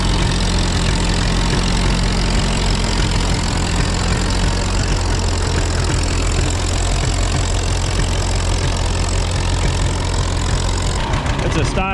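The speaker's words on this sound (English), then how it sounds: "It's a Style D John Deere with probably a 3-bottom plow" A Style D John Deere antique tractor pulling a three-bottom plow at a threshing bee, its engine chugging loud and steady with a low knocking rhythm throughout, close by.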